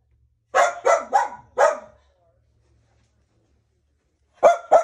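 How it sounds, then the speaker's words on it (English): Several dogs bark indoors at a house in Brunswick, Maryland: a quick run of four close, loud barks, a pause of near silence, then two more barks at the end. "Hi, puppies."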